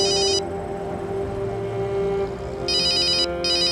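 A telephone rings in short electronic bursts, one burst, a pause, then two more, over a steady background hum and tone in an indoor dramatic scene.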